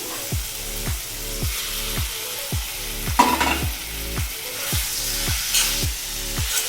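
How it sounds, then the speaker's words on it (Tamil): Mutton liver stir-fried in a pan gives a continuous loud sizzle, with regular scraping strokes of a spatula about once a second and one sharper clatter midway. "ஈரல் சேர்த்துட்டு நல்லா வதக்கிக்கோங்க."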